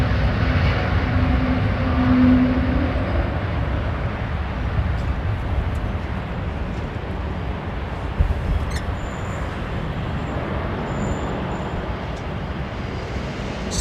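Aircraft engines roar steadily at London Heathrow, where an American Airlines 777-300 is among the jets; a loud, continuous broadband rumble fills the scene with brief higher whines near the end.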